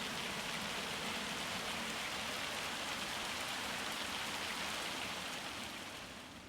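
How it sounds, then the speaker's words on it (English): Hail beats down in the farming video game Farming Simulator 25. A dense, constant hiss of pelting ice covers everything, loud and unbroken, then it eases slightly at the end, with no voices. "Alright, hail is ending."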